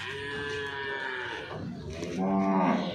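Jafrabadi buffaloes at a busy livestock market moo loudly in overlapping, drawn-out calls, a deep bellow swelling near the end over a steady crowd murmur.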